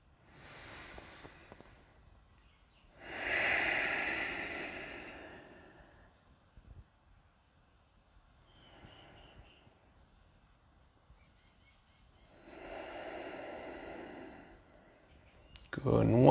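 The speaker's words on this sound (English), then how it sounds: "And take 2 rounds of breath." Slow, deep yoga breaths come close and soft, with a few long inhale and exhale rushes separated by quiet pauses.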